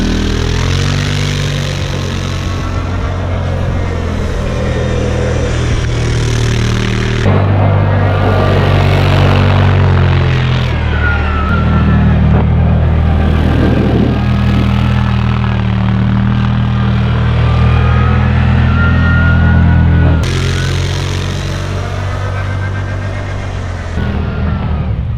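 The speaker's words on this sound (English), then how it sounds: "we're ripping the Z-Force 800 from CFMOTO, and it's doing great" A CFMOTO Z-Force 800 side-by-side runs on a frozen lake, its engine droning loudly and steadily with revs rising and falling throughout, heard up close with no voices.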